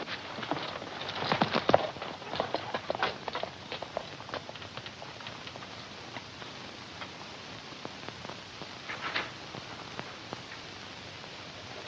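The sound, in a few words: horses' hooves clip-clopping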